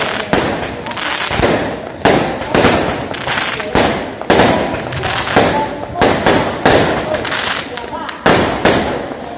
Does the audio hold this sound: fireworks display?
yes